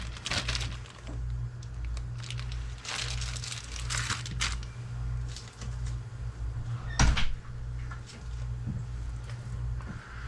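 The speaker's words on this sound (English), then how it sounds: "we are going to go ahead and put these in individual bags and stack these in the freezer" Venison backstraps being sealed into individual plastic bags, with crinkling and rustling plastic handled in irregular bursts close by, a steady low hum underneath and one sharper knock partway through.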